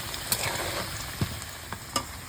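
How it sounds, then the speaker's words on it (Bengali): Potatoes fry in hot oil with a steady, close sizzle, broken by a few sharp pops and spatters scattered through the continuous crackling. "এবার চলো আলুগুলো তুলে নিয়ে ডিমটা ভেজে নেব।"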